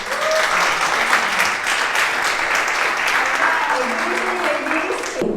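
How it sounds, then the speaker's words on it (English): Audience at a women's storytelling event applauding warmly, steady dense clapping from a room full of people lasting several seconds, with faint voices beneath. "So let's make a warm welcome and applause to Lilian."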